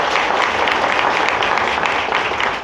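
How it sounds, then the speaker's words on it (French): A crowd at a vodou festival in Gonaïves applauds itself, a loud, dense, steady wash of many hands clapping throughout, with no voices standing out. "je veux que tout le monde n'a qu'à s'applaudir vous-même"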